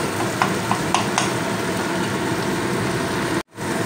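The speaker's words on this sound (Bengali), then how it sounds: "মশলাটা সুন্দর একটা কালার চলে এসছে, তেলও ছেড়ে দিয়েছে, মশলাটা কষানো হয়ে গিয়েছে" Spice masala for a homemade paneer recipe frying in oil and being stirred: a dense, steady sizzle with a few light spoon clicks early on and a brief drop-out near the end.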